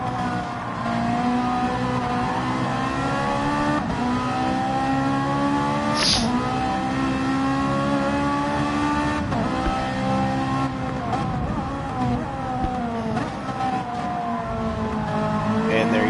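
Several race cars from a racing video game on the Trial Mountain circuit run nose to tail, their engines droning and whining together in steady layered harmonics throughout, with a brief sharp high tone midway and a commentator talking over the top.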